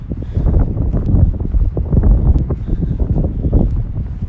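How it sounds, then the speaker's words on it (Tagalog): Strong wind blows through a snowy outdoor scene, buffeting the microphone with a constant low rumbling roar and irregular gusty thumps, loud and close, with no voices. "Grabe po ang hangin."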